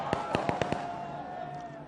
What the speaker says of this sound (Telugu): టపాకాయలు కాల్చదు బాబు